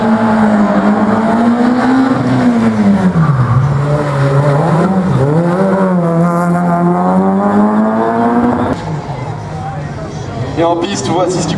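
A PRM Fun Boost prototype race car weighing 360 kg runs a slalom course, its engine revving up and down in loud sweeping pitches under a commentator's voice.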